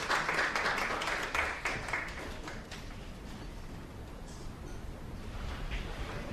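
Audience applause at a short film festival awards ceremony in Istanbul as jury members take their seats, a dense burst of clapping at first that thins into scattered claps and fades.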